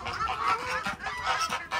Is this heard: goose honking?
yes